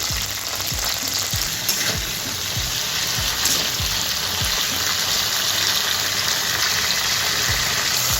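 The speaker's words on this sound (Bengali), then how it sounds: "আর ফুলকপিগুলো খুব সুন্দর করে ভাজা হয়ে গেছে" Cauliflower frying in hot oil sends up a loud, continuous sizzle with a crackling hiss throughout, close by, with faint regular thumps underneath.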